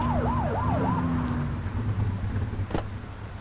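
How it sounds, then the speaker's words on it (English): A wailing police siren in a video game sweeps up and down rapidly for about a second over a steady engine drone, then fades, leaving road rumble and a brief thump. "They won't know if you want to pull them over if you don't turn your siren on."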